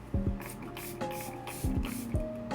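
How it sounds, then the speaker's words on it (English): Setting spray is misted onto a face during a makeup routine, giving four short, close hissing bursts spaced unevenly over about two and a half seconds, over faint steady background tones. "This is not a powder, I meant the spray."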